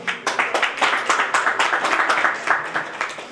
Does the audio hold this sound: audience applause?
yes